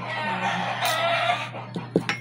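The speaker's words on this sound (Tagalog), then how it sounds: "Maingay yung mga manok." Chickens cluck and a rooster crows loudly nearby in a Philippine home setting, with a drawn-out crow followed by a few sharp clucks and short calls.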